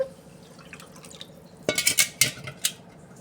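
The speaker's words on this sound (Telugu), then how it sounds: "ఇప్పుడు కొద్దిగా వాటర్ వేసుకుందాము బియ్యం మునే వరకు" After a quiet moment, water splashes into a pot of rice in a few quick, close bursts, with small drips and a light clink.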